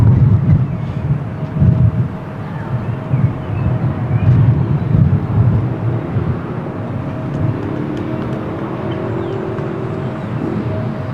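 Bombardier CRJ 1000 airliner at windy Lisbon Airport, a steady broadband engine roar with a faint tonal whine, heard from a distance through gusty wind buffeting the microphone, no voices.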